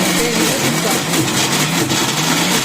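A mixer grinder blends cupcake batter with a steady, loud motor whir that holds unbroken and close for the whole stretch.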